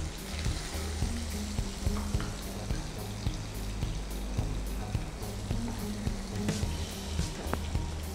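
Chopped onion fries in hot oil in a home kitchen pan while vegetable palav is being cooked. The sizzle is loud and steady throughout, with occasional stirring clinks over a constant low hum.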